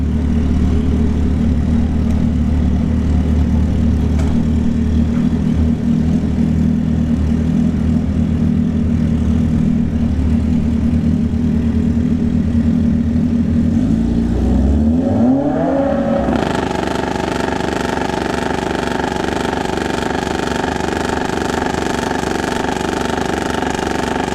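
A nitrous Busa drag bike roars loudly through a drag race run at a motorsports park, a sustained high-revving engine drone that sweeps upward in pitch as it shifts and pulls away.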